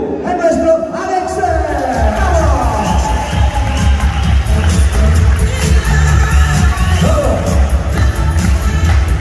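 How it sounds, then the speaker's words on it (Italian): A holiday resort evening show at Playa de las Américas, Tenerife, where an audience cheers and whoops over loud continuous crowd noise, with an animator's voice shouting through it. "put your hands together, grande applauso"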